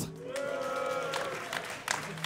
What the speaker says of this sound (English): If you're a fan of DarKFoRcE, give a cheer for DarKFoRcE.